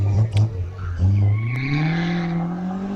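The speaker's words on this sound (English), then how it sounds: "Trevor Parsons out there on the hill at present in his Caterham." A Caterham sports car races up the Wiscombe Park hillclimb course, its engine revving hard, rising in pitch through the gears with a brief lift between shifts, loud and close.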